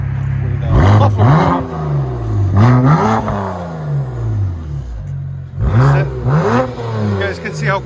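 A tuned 2007 BMW 335i with a 3.0L engine and muffler delete revs loudly in three bursts of rising, roaring exhaust with brief settling between, close up, while voices talk alongside.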